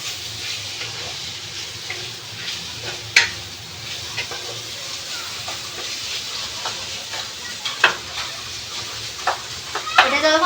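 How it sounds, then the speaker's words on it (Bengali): Food frying lightly in oil in a wok (kadai) gives a steady, close hiss, broken by occasional sharp clicks and spatters that grow busier toward the end. "হালকা করেই ভাজবো, খুব বেশি না"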